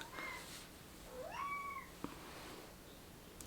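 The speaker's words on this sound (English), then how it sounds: "He's meowing at the door." A male cat meows at a door indoors, one clear rising-and-falling meow near the middle, fairly close and moderately loud over a quiet room, with a faint click shortly after.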